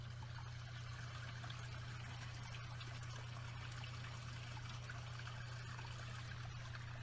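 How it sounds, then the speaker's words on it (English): Pond water trickles steadily from an angled pump return line toward the outlet, a constant close splashing stream with a low steady hum beneath and no talk. "A return line from a pump is angled to help the water flow towards the outlet."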